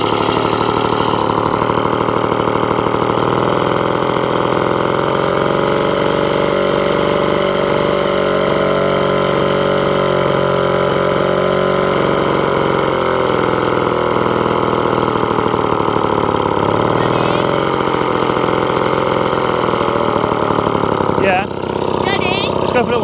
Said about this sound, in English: Lifting the back of the mower up so the drive is running.